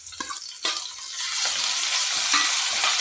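Ground spice paste is stirred into green chilies frying in oil for a curd chili dish, opening with a few knocks of a spoon against the pan before a steady, close sizzle takes over.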